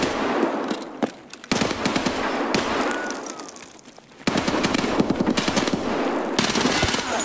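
Rapid automatic gunfire in the shooter game Escape from Tarkov, loud and close, in sustained bursts broken by short pauses, dense crackling shots stacking into a continuous roar.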